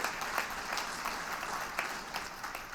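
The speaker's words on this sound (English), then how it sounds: "giving yourselves a round of applause." Audience applause at a business event, a steady dense clapping from a crowd that carries on evenly throughout without talk over it.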